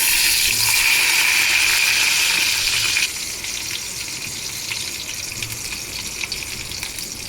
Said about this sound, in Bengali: কড়াইতে বেশ কিছুটা সর্ষের তেল দিয়ে বেগুনগুলো আমি ডুবো তেলে ভালো করে ভেজে নেব।